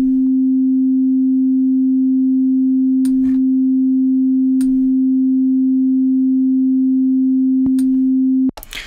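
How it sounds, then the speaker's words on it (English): A basic C4 sine wave tone plays steadily in Ableton, a pure single pitch with no harmonics, held loud and unbroken for about eight seconds with a few faint clicks before it cuts off abruptly. "on the first channel, we have just a basic sine wave playing"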